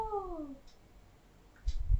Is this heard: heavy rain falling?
no